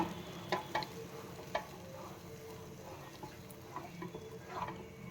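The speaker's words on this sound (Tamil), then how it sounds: "நம்ம நல்லா கிண்டிக்கிட்டே இருக்கணும்." Kodo millet flour batter is stirred steadily in a pan on a gas stove, with soft scraping strokes and light sizzling at close range and no talking.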